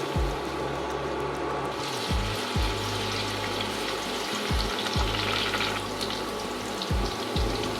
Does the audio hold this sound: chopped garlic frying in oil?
yes